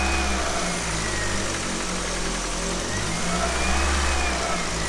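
A Mk1 Golf GTI engine with worn alternator bearings running steadily, its low rumble and revving mixed with continuous broadband whine and hiss, moderately loud and constant throughout with no talking.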